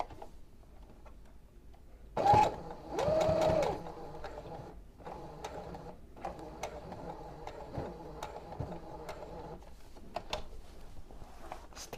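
Sewing machine stitching across the end of a fabric strip for a baby's pillowcase dress, two short, soft whirring runs near the start, then faint ticking and mechanical clicks in a quiet room.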